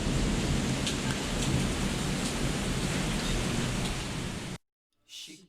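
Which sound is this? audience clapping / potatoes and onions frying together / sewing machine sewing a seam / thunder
thunder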